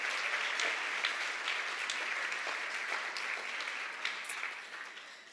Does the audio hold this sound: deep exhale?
no